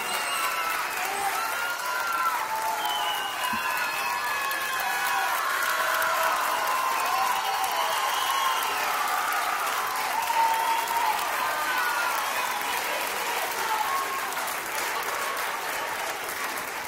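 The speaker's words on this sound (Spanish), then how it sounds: "Gracias por sus aplausos." Sustained audience applause at a live cumbia concert, a dense, even wash of clapping lasting well over fifteen seconds, with scattered cheers and whoops rising through it.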